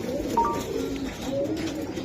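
Domestic pigeons, including a young hen, give low rolling coos close by, with a brief higher call near the start and a steady murmur throughout.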